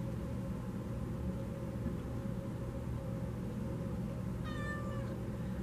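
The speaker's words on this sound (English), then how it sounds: "I will let my cat out because she's going to start howling" A house cat gives a short meow near the end, a few rising tonal cries heard over a steady, loud background hum with no talking.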